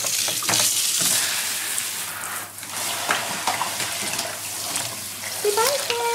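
Water sloshes and splashes steadily in a tub, with scattered drips and small bursts close by and a brief rising whine near the end.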